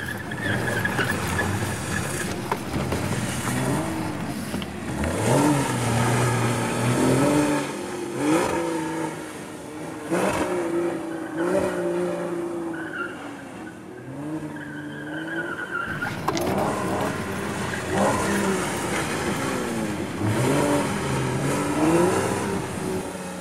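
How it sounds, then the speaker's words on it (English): A Porsche Boxster S on summer tires slides on all four wheels across snow at low speed, its engine revving and falling in repeated surges with scrubbing tire noise throughout and no talking. "I can get the Boxster S to slide all four wheels"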